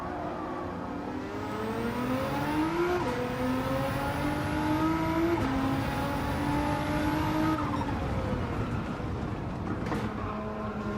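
Nissan GT-R racing car in a video game, its engine revving and shifting through gears in a steady, loud drone with rising pitch sweeps and brief tire squeal, continuous and close throughout.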